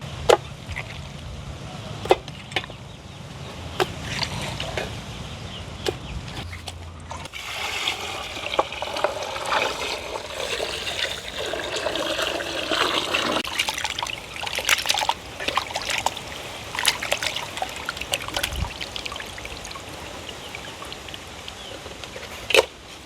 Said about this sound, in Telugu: ఈ చికెన్ ని ముందుగానే ఇంటికాడ కడుక్కొచ్చున్నాము దీన్ని మళ్ళీ ఇంకొకసారి నీట్ గా కడుక్కుందాం